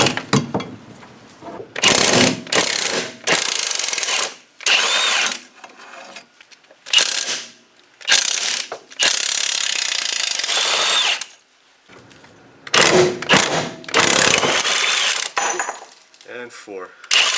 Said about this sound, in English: There's 4 bolts here. There's a 13 millimeter bolts. We're going to go ahead and take those off.